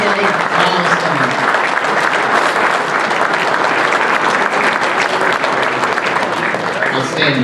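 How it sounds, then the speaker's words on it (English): Dense, loud, sustained applause from a ballroom audience at a high school baseball hall of fame induction ceremony honoring coaches, a steady roar of many hands clapping throughout. "let's hear a round of applause for all of these coaches and their victory milestones"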